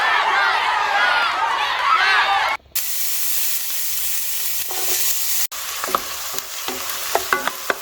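Vegetables sauteing in olive oil in a pan for a creamy pink sauce pasta, giving a steady close sizzle and hiss with brief stirring scrapes and clatter near the end, with no talk.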